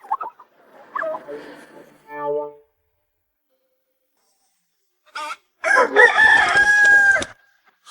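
A rooster crows loudly and close in one long call near the end, after some short clucks and farm-bird calls, with quiet gaps between.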